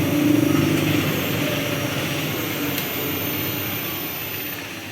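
An Okinawa electric scooter motor runs with a steady, even hum and a faint high whine, holding constant for several seconds at close range with no talking.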